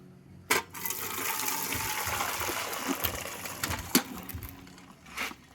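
Cooked rice being drained: a sudden pour followed by a continuous rushing gush of water for several seconds, close and fairly loud, tapering into small splashes and a final thud, with no speech.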